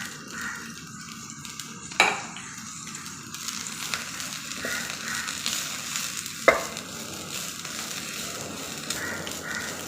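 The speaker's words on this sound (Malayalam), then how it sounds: "ഇപ്പോൾ പാൻ ചൂടായി വരുമ്പോൾ നമുക്കിതിലേക്ക് തേങ്ങ ഇട്ട് കൊടുക്കാം." Grated coconut fries and sizzles in a hot pan, with a steady crackle and two sharp metallic clinks of a spoon against the pan, and no talk.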